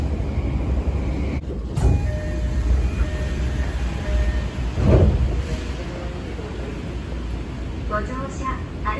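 Inside a Tokyo Metro train carriage: a steady rumble of the running train with rail clatter and brief clunks, while voices speak over it.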